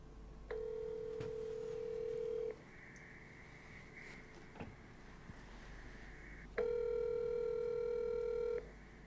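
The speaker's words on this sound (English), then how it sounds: "Now we're going to press the dial button." A telephone dial button is pressed to call an answering machine, giving two long steady electronic tones separated by a quieter gap with faint background hiss.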